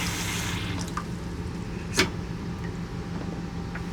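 A sink fills with water from the tap, giving a steady close hiss and rush of flowing water with a couple of faint clinks, and nobody speaks.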